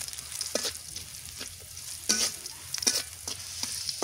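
Garlic and chili fry in oil in a pan, a bright steady sizzle broken by repeated spatula stirring scrapes and spurts of louder crackling, with no one speaking.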